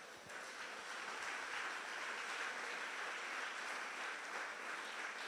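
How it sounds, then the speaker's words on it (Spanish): Church congregation applauding during a sermon, a steady, even wash of many hands clapping for several seconds with no voices over it. "Eso merece un aplauso al cielo."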